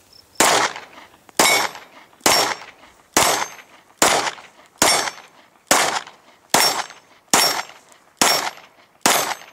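Ten sharp Glock pistol shots with 115 grain Silver Bear ammunition ring out at a steady, unhurried pace, each a loud close crack with a brief decaying echo, and nobody talks between them.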